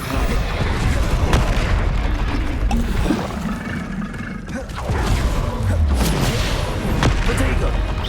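Incendio fire spell cast over and over in the video game Hogwarts Legacy, heard as dense booming, crackling bursts of magic that run continuously with brief swells and dips.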